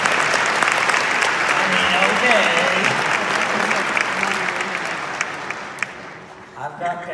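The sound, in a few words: audience applause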